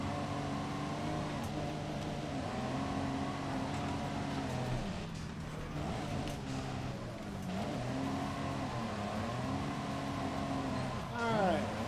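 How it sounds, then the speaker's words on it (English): Truck engine in the racing game Forza Horizon 5, a steady droning motor with shifting pitch as it revs up and down, heard quietly beneath people talking. "I can hear my truck."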